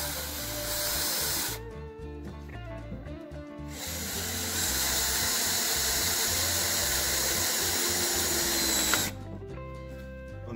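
A power drill drives quick-fastening screws into a wooden batten on the interior panelling of a camper van conversion, with loud close bursts of whirring separated by short pauses.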